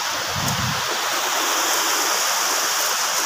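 A waterfall at Seydisfjordur, Iceland, roars as a steady, dense wash of rushing water close by, continuous and even throughout with no voices.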